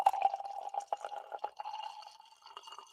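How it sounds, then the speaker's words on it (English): Wattle Creek California Chardonnay pours into a glass with soft trickling and gurgling, a close, quiet stream that thins out toward the end. "I'm gonna get a nice pour."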